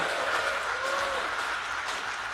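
A crowd at a mass home-loan signing and key handover ceremony applauds for the President, steady dense clapping throughout at full strength, no talking over it.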